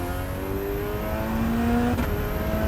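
A 525 hp Ariel Atom 4RR sports car accelerates hard on a test track, its engine note climbing steadily through the revs with a brief gear-change dip, loud and close with no talking.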